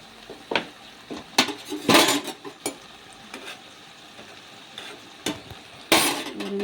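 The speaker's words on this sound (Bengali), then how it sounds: "আমি এটাকে ভেজে নেব, একটু" Stirring and frying a Bengali pumpkin stalk, potato and eggplant curry in a pan, with repeated sharp scrapes and clinks of a utensil against the pot over a faint sizzle, close by and with no voices.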